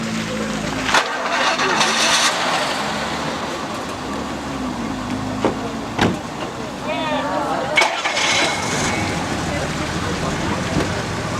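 A Mark 2 Jaguar at a wedding cranks and starts, settling into a rumbling idle with a few sharp clunks and bumps, while people talk around the car.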